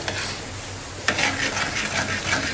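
Sweet payasam being stirred in a pot, a steady soft scraping and swishing with a faint simmering hiss, one sharper scrape partway through, close by and without talk.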